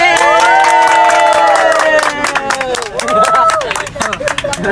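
A lively crowd at a musical theatre performance, loud and close, with cheering and shouting voices rising over scattered clapping that grows into rapid, dense applause toward the end.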